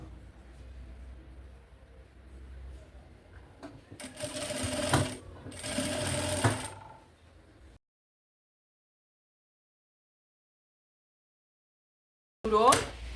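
A sewing machine runs in two short bursts of stitching along a fabric lining, a rapid mechanical whirr with a brief pause between, followed by quiet and then another short burst of activity.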